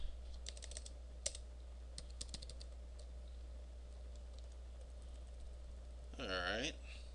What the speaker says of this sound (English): I'm actually going to type in some text here now.